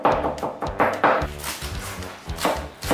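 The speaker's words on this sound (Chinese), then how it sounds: "蒜头拍扁剁碎" Garlic cloves are smashed flat with a knife and then minced on a chopping board, making a close, busy run of sharp knocks and rapid chopping taps, with no voices.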